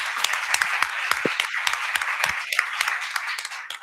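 An audience applauds at the close of an inaugural lecture, with dense, sustained clapping that fills the room evenly with no voices over it.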